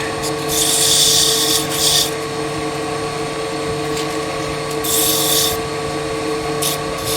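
Steady hum of a woodturning lathe with bursts of abrasive rasping as sandpaper is pressed against a turning wooden top, several passes of a second or two.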